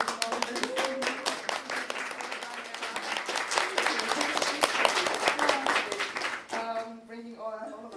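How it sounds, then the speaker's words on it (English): An audience claps steadily in a room for the woman who organized a gathering of female creators, a dense patter of many hands; the clapping thins toward the end as a single voice begins speaking. "can we just give a big applause for Emma for organizing all of this?"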